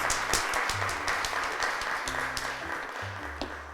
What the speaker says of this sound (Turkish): Arkadaşımız Gülsima'yı alkışlarla çağırıyoruz.